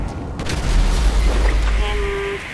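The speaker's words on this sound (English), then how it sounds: "An explosion on," A deep, booming explosion in Grand Theft Auto V rumbles loudly and briefly, its low roar fading out with a faint tonal whine at the end.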